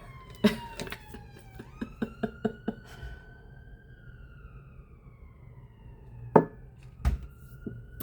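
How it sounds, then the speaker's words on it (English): A siren wails in the distance, its pitch sliding slowly, with scattered knocks and thuds closer by. "You're gonna get sirens and all"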